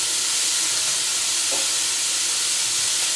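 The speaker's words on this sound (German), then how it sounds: "Das lasse ich jetzt goldbraun anbraten," Oil-marinated chicken fries in a pan, browning to golden with a loud, continuous sizzle and hiss that stays close and steady throughout.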